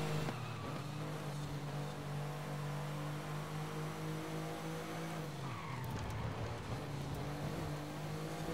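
A car braking hard in the racing game Forza Horizon 5, with a steady engine drone giving way to a sudden dip and tire squeal midway, loud and continuous throughout.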